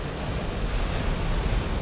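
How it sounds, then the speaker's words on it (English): Ocean waves surge and wash onto the shore at Whitby, a steady broadband roar with wind buffeting the microphone throughout, loud and close with no pauses. "I could watch the waves crashing all day long."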